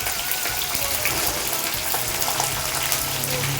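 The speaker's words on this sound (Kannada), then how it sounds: "ಸಾಸಿವೆ ಜೀರಿಗೆ ಸ್ವಲ್ಪ ಸಿಡಿಯುವಾಗ ಒಂದು 8ರಿಂದ 10 ಕರಿಬೇವಿನ ಹೆಸರು, ಹೆಚ್ಚಿಟ್ಕೊಂಡಂಥ ಹಸಿಮೆಣಸಿನ್ಕಾಯಿ" Mustard seeds and cumin spluttering in hot oil as curry leaves and chopped green chillies go in, a dense continuous crackle and sizzle with scattered pops, close and steady throughout.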